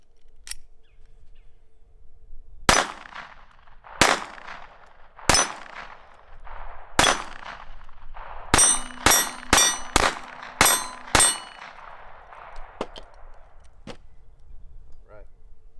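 .22lr shots from a Ruger LCP II Lite Rack pistol hitting a small steel target: spaced sharp cracks with bright metallic rings, then a fast burst of several shots before a few final ones.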